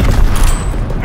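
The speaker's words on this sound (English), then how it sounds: "Lob it a grenade!" A grenade blast in a World War II shooter game, a loud, dense low rumble that fills the whole moment, with no voices over it.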